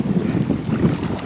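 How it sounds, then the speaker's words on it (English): Strong wind buffets the microphone on a rough, busy beach by the water, a brief, close, gusty roar. "This is a very busy, very windy day."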